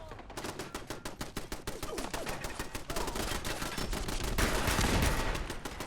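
Rapid automatic gunfire from Fallout 4 settlement turrets during a battle, a dense, loud, continuous rattle of shots that swells slightly louder toward the end with no pause.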